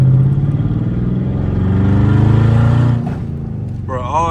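A Dodge Charger Scat Pack's engine drones loud and close as the driver accelerates on snow, the low exhaust note rising then easing off, with someone talking over it near the end.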